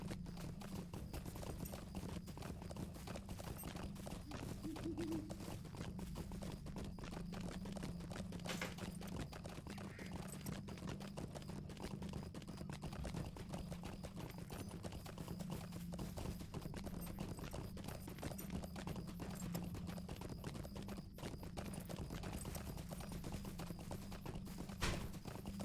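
Horse hooves clip-clop steadily and continuously in the online game LOTRO (Lord of the Rings Online), a moderately loud, even trotting rhythm that carries on alone throughout with no talk.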